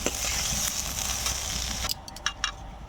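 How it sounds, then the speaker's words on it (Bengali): Chopped vegetables for fried momo sizzle and hiss steadily in a hot pan, a dense close frying crackle that drops away near the end, leaving a few stirring scrapes. "সবজিটা হালকা ভাজা হয়ে গিয়েছে"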